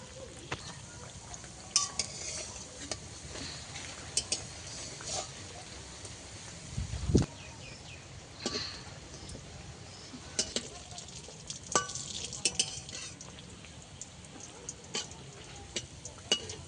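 Biscuits made from wheat flour fry gently over low heat in oil, a soft steady sizzle with scattered clinks of a utensil against the pan and occasional scraping stirs.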